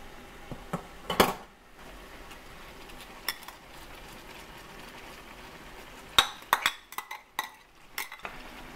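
Vegetables go into a pan of spiced gizzards with sparse metallic clinks and scrapes of a utensil against the pan over a quiet background hiss.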